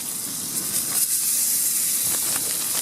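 Cheap frankfurters sizzle in hot oil in a pan at a motorcycle campsite, a loud, steady, close hiss with small crackles all the way through.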